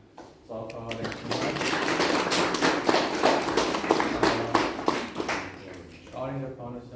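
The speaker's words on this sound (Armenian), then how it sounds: "Արտեմն եմ ուզում ծափահարենք" An audience applauds at the premiere of an Armenian history film series. Dense, steady clapping from a crowd swells in after a brief voice, holds for several seconds, then tapers as speech resumes.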